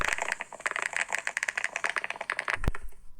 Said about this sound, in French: j'ai vu qu'on pouvait changer le son des claviers